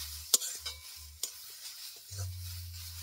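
A spoon stirs a carrot and oats mixture with sugar in a pan, making a few sharp scrapes and clinks over a quiet, intermittent low hum, soft and close.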